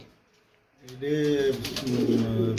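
Pigeons coo in soft, throaty bursts at a small pigeon farm with caged birds, after a short quiet start, with voices talking over them close by.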